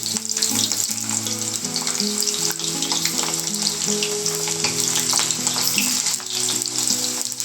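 Potatoes deep-frying in a kadhai until golden brown, a dense, steady bubbling sizzle that stays loud and close throughout with no talk.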